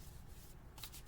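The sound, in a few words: shuffling a tarot card deck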